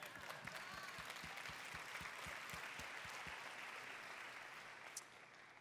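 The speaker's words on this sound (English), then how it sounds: "You should applaud." Audience applause at a justice and law panel discussion, a steady, moderately distant wash of clapping lasting several seconds with faint voices underneath and a low rhythmic thumping in the background.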